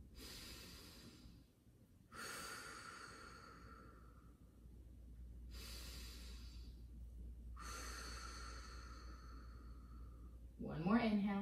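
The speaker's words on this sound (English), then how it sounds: "And breathe." Slow, deep breathing during a yoga stretch: long breaths in and out repeat at a steady, unhurried pace, close and soft, and a voice starts to speak at the end.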